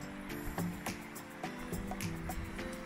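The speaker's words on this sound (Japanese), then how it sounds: "3日間のですね、大雨でですね、川に流れが戻ってきました。" A river in Phetchabun, Thailand, runs again after three days of heavy unseasonal rain, with steady rushing water and repeated splashing pulses close by.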